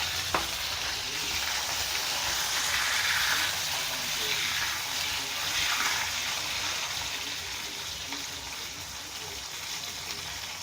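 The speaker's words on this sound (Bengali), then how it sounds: "বেগুনটা আমি ভেজে নেব এইভাবে হালকাভাবে।" Large cut brinjal pieces fry in hot oil for fish curry, giving a steady, close sizzle with a hissing spit throughout and no voice.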